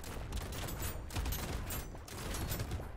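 Rapid shotgun fire from the game Brotato rattles in a continuous dense barrage, faint and steady throughout with no pauses.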